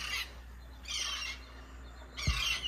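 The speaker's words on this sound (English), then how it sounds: "Birds are downstairs talking still." Birds call outdoors by calm water, three bright bursts of high chirping separated by pauses over a low steady hum, fairly close.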